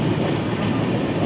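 A Rupsha passenger train in Bangladesh runs on its rails, heard from inside as a loud, continuous low rumble with faint wheel clatter and no voices.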